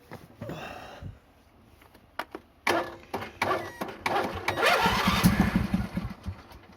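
Craftsman riding mower with a sticking starter being cranked: a few short bursts and clicks, then the small engine catches and sputters into a rough, close idle.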